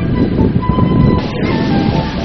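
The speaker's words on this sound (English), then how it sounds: "a storm stirred up just as we reached the park" A storm breaks over Volcano National Park on Huizhou Island: steady, dense rain roars with a low rumble of thunder and wind, loud and continuous throughout, with no voices.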